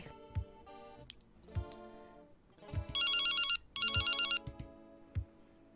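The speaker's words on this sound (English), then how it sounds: "It's my cell phone." A cell phone rings in a video game, two bursts of bright electronic ringtone standing out over soft low background music and scattered thumps.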